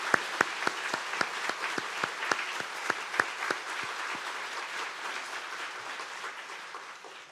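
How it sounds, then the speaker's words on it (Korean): A church congregation at an anniversary thanksgiving service bursts into applause, a crowd clapping in a steady rhythmic beat that slowly loosens into scattered clapping and fades toward the end. "박수 한번 크게 합시다."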